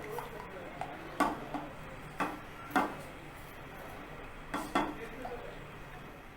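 A spoon stirs milk into fried flour in a pan for a white sauce, giving occasional close metallic clinks and scrapes over a soft background hiss.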